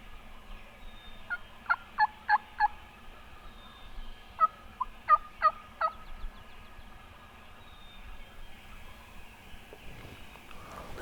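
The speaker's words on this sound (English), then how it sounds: "Listen to that one across the valley just gobbling his head off." Wild turkey gobbles carry from across a valley on public land, two bursts of rapid rattling gobbles, moderately distant and clear over quiet outdoor ambience.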